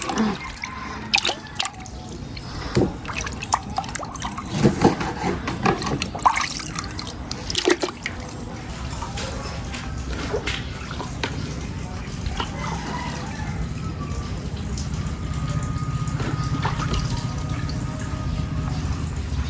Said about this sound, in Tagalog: bali hugasan na po natin itong mga isda